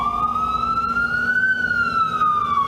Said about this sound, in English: The only sound of New York hustle and bustle is the wail of the ambulances.